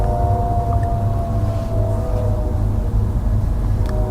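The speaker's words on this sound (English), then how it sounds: "Yeah, something definitely triggered the coyotes." Coyotes howl at night in a sustained, distant chorus of long wavering tones over a steady low rumble of background noise.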